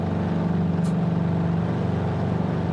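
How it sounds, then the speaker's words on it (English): In Microsoft Flight Simulator 2020, an aircraft engine hums in a steady, loud low drone with a faint rhythmic throb, and a brief soft hiss passes early on. "The engine sounds so nice."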